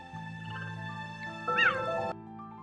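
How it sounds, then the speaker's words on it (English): A single high, bird-like chirp from a cheetah rises and falls over a steady background hum, brief and fairly close. "They do chirp!"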